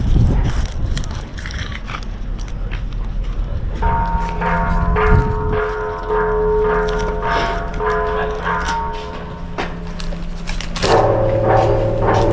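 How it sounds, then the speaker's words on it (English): A temple bell or gong is struck at a Buddhist shrine in Chainat, Thailand, ringing with sustained metallic tones that decay, then a second strike near the end, amid outdoor background noise. "And we hit the bell, the gong,"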